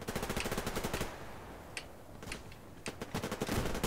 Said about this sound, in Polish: Tu strzela na mnie, dostanę kulkę od snajpera.